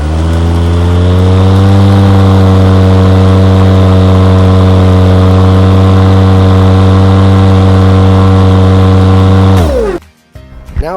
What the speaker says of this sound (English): as you can see on the Honda engine, which is quite a reliable motor, in fact, I just got it and I just started it now